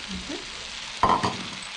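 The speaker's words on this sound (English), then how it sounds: "Next we add the spices and some ginger and the leeks." Spices, ginger and leeks frying in a pan for a prawn noodle dish, giving a short, steady sizzle with a brief louder burst of stirring midway, close and without talk.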